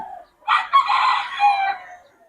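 A bullstag rooster gives one loud, close crow lasting over a second, preceded by a brief softer call.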